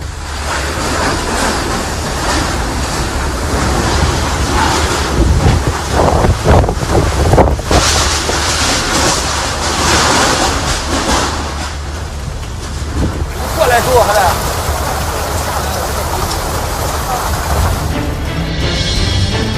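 Strong gale winds in Jiangsu province, gusting at 64 to 71 miles per hour, roar steadily into the microphone for about twenty seconds, loud and unbroken.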